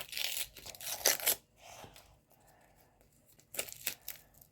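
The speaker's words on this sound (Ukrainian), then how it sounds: "знову ж таки порвався пакетик" Paper sticker packet torn open by hand, a few sharp rips and crinkles in quick bursts at the start, a quieter rustle in the middle, then another short tearing burst near the end, close up and fairly quiet.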